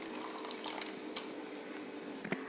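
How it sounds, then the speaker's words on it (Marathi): Water from soaked kokum is poured into a simmering Bombay duck fish curry, making a brief, soft, steady trickle and splash close by. "ते कोकमचं पाणी सुद्धा आपण याच्यामध्ये टाकू"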